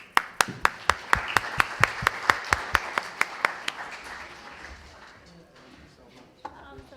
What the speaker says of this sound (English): Let's have another great round of applause for our panel